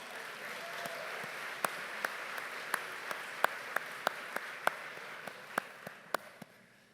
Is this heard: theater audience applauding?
yes